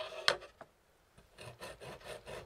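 Aged pecorino cheese grated by hand, with a sharp scrape at the start followed by a run of short, rhythmic rasping strokes, close and quiet.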